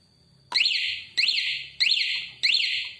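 Four loud, identical electronic alarm bursts from a Honda PCX 160 motorcycle alarm, each a rising-falling warbling chirp repeated at an even pace, close and clear.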